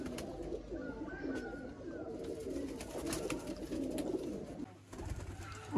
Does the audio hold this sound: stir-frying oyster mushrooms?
no